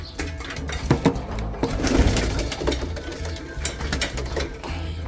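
Racing pigeons coo in a loft with low, throaty murmurs amid clattering and rustling of birds and trap fittings, close and continuous.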